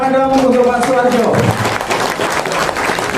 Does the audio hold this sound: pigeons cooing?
no